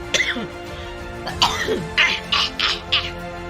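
A person coughs several times in short, sharp bursts, close and fairly loud, with a throat-clearing sound near the start.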